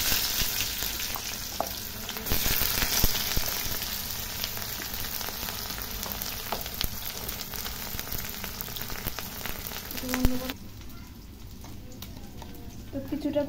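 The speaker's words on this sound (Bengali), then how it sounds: "পেঁয়াজটা একটু ভালো করে ফ্রাই করে নিতে হবে তেলের উপরে দিয়ে" Sliced onions fry in hot oil with cinnamon, cloves and cardamom, a continuous soft crackling sizzle with occasional stirring clicks and a brief metallic scrape near the end, while someone talks over it.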